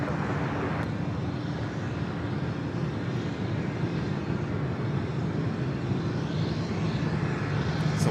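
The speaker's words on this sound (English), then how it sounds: "It's a one-year-old A330 Neo delivered to Delta in December of 2023." One-year-old Delta Airbus A330neo airliner at LAX, a steady broad jet roar rumbling continuously at constant moderate loudness without any voices.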